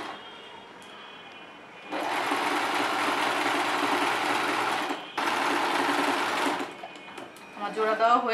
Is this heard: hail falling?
no